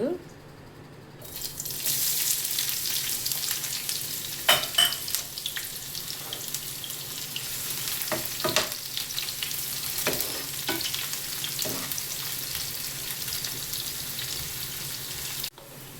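Onions sizzling in hot oil in a pan while being stirred, a steady bright frying hiss with scattered clinks and scrapes of a utensil, close and moderately loud.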